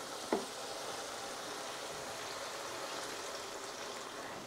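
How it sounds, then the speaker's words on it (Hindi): Half a cup of water poured into a pan of frying mushroom and potato curry, a short splash near the start, then a steady loud hiss and sizzle from the hot gravy throughout, with no one talking. "अब हम डाल देंगे यहाँ पे 1/2 कप पानी"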